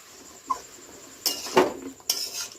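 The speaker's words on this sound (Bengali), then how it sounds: "ভালো করে নেড়ে চেড়ে দিচ্ছি" Water lily stems with spices and green and red chillies stirred in a pan, a few sharp scrapes and clinks of a utensil against the metal, spaced out over a quiet background.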